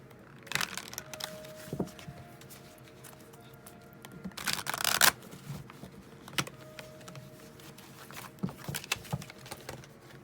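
A tarot deck being shuffled by hand, with soft papery riffles and card taps in scattered bursts, one longer flurry near the middle, close up and fairly quiet in an otherwise calm room.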